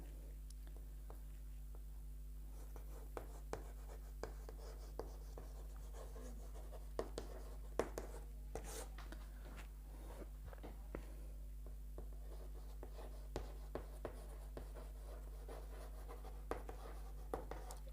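Marker or chalk writing on a board during a chemistry class, heard as faint, scattered scratchy strokes and taps over a quiet room hum, with no speech.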